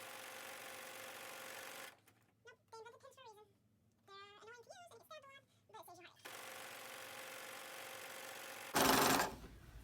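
A sewing machine hems store-bought curtains with a steady, close motorized hum. It stops while someone talks, then starts again, and a brief louder burst of noise comes near the end.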